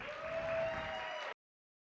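An audience applauds with a dense, steady wash of clapping at moderate loudness that continues for over a second and then cuts off abruptly into silence.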